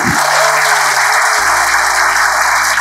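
An audience claps for artists performing on stage, a dense, loud, continuous wash of applause with a low tonal hum running underneath.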